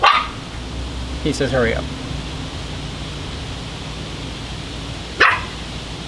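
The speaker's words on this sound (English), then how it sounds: "barking at the tree" A dog barks at a tree outdoors: one sharp bark at the start and another a few seconds later, with someone speaking in between over a steady background hiss.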